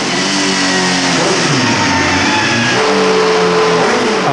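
A 2001 Suzuki GSX-R1000 sportbike engine screams loud and close on a dyno in fourth gear, its pitch climbing steadily toward high revs with a brief dip before rising again, no voices over it.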